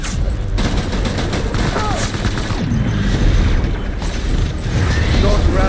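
Dense, continuous gunfire and booming blasts in Death Stranding Director's Cut, a loud chaotic fusillade of overlapping shots with a constant roar beneath and faint voices mixed in.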